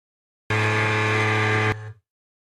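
An Ibuki goal horn running on half its rated voltage sounds one loud, buzzy, steady blast lasting just over a second. A brief lower tail trails off as it stops.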